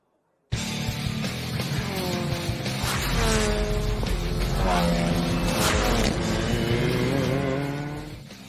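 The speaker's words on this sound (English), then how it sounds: "Cars coming to life here at Sandown Raceway as we get set for race 2 of Car Sales TCR Australia" TCR Australia touring race cars starting up and revving at Sandown Raceway before a race, a loud, dense wall of engine roar with rising and falling revs from several cars, close and continuous with no talk.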